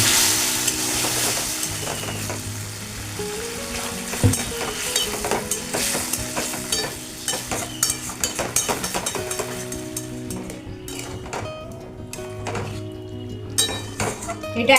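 A little water goes into a pan of frying potatoes and eggs for a garlic egg kasha. A loud sizzle gradually quietens, broken by clinks and scrapes of a utensil against the pan.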